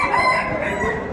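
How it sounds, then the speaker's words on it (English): A rooster crows loudly and close by in one sustained, strained call that fills the whole short moment. "We met his rooster,"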